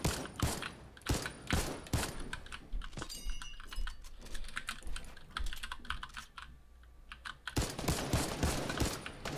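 Gunfire sounds in the video game Fortnite as rapid bursts of sharp, clicking shots in an uneven rhythm, with a brief quieter lull before the volleys return.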